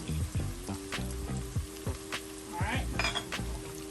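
Freshly minced garlic, three cloves, sizzling in a hot pan for Southern collard greens, a close, crackling fry with repeated scraping stirs and light clinks of a utensil against the pan.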